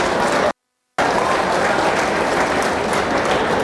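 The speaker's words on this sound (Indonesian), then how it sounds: "Tepuk tangan" An audience at a Halal Bi Halal gathering applauds loudly and densely, the clapping cut by a brief gap of total silence before resuming at full strength.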